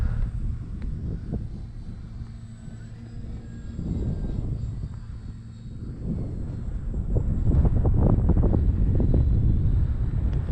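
A Parkzone T28B RC model airplane flies at Avon Park on a windy day, its engine buzz rising and fading as it passes, mixed with heavy wind rumble on the microphone and no voices.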